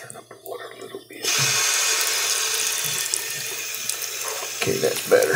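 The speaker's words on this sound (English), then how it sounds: "Turn up the water a little bit." Tap water gushes into a sink, starting suddenly after a quiet opening and running as a steady, fairly loud splash, with someone speaking over it.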